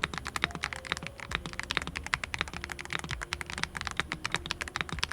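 Fast, steady typing on a mechanical keyboard with a numpad, linear switches, double-shot PBT keycaps and RGB lighting. Dense, close clacks of keystrokes run continuously with no pauses.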